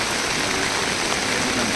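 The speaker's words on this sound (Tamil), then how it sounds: "நம்ம திருவண்ணாமலை பார்த்திங்கன்னா மழை வந்துட்டுருங்க" Steady rain pours at Annamalaiyar Temple in Tiruvannamalai, a dense, even hiss of falling water that holds unbroken throughout without any voices.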